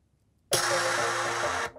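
A breakdown sound effect from an Afrobeats production sweeps in abruptly as a dense, loud noisy wash over a low sustained tone, holding steady for just over a second before cutting off.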